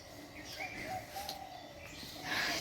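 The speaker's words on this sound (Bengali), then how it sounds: "বসন্তকাল না কোকিল ডাকছে" A faint, distant Asian koel calls a few times in whistled notes over quiet outdoor background hiss.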